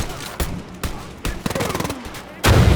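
Gunfire in the video game Wolfenstein: Youngblood: several sharp, loud shots arrive in irregular bursts, with a rapid automatic string near the middle and a heavy blast at the end.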